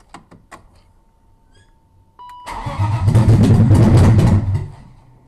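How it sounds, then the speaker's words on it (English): A BMW 318i engine with no exhaust fitted cranks for the first time after a swap. Faint clicks come first, then the engine catches and roars very loud and raw for about two seconds before cutting out. "So we're gonna go ahead and get this first crank. It is extremely loud because it does not have any exhaust on it just yet."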